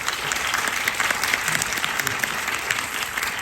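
Audience applause in a cinema for a film director's appearance at a screening event, a dense, loud, steady burst of clapping from a large crowd throughout, with no voices over it.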